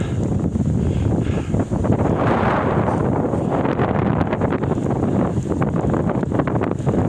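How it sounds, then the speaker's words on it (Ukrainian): Steady, roaring wind of a winter snowstorm buffets the microphone throughout, a dense continuous rush with gusty rumbling and no voices. "Сніг вітер"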